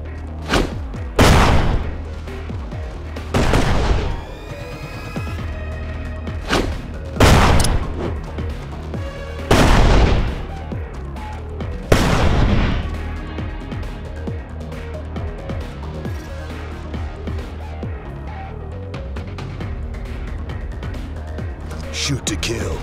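Gunfire in a zombie shooter game set in an industrial district, with loud, separate shots and booming blasts spaced several seconds apart over a steady background hum.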